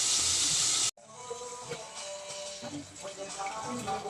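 Bullet tuna sizzles and crackles in hot oil, with a steady, fairly close frying hiss and scattered pops that follow a sudden sharp cut-off of a louder burst.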